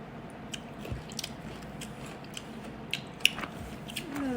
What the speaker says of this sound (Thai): ขอกินก่อนแป๊บนึ